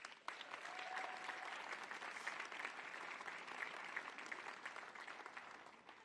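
Crowd applause at a Camogie League final between Wexford and Dublin, a steady wash of clapping with a few scattered cheers, fairly distant and continuous for the whole stretch.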